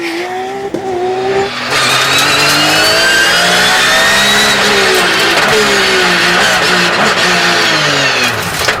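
A Porsche rally car engine roars loudly at the 2011 Rallye Lyon-Charbonnières, revving up and down through gear changes, its pitch climbing and falling continuously, close and powerful.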